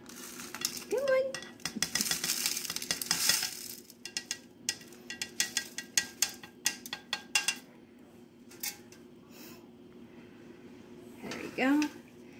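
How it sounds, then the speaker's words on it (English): Crushed peppermint is stirred into melted white chocolate for peppermint bark, with scattered spoon clinks and scrapes against a bowl rising and falling between bits of talk. "Stir in your crushed peppermint."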